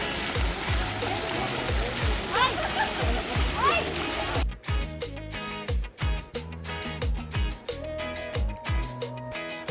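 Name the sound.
waterfall in Lalbagh Botanical Garden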